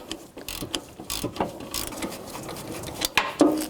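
A ratchet turning a swivel 12mm socket on an extension to loosen a bolt on a 2006-2012 Toyota RAV4 alternator gives quick rows of close mechanical clicks, with a few louder clanks of metal near the end.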